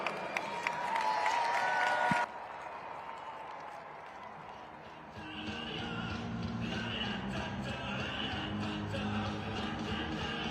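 Stadium crowd at a Monster Jam event in St. Louis applauds and cheers, a loud burst of clapping that drops briefly, then swells again into sustained distant roar.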